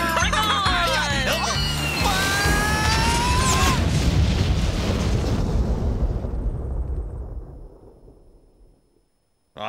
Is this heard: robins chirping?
no